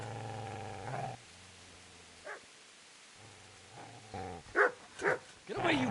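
A dog in Kingdom Come: Deliverance gives a few low growling and whining sounds, then several sharp barks in quick succession near the end, close and fairly loud.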